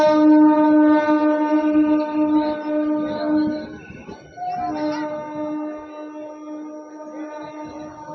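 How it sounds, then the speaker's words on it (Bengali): A steady, droning engine hum with a strong low tone, continuous throughout with a brief dip midway, from a train moving slowly along the line through a crowded village fair. "ট্রেনটা কিন্তু আস্তে আস্তেই যাচ্ছে"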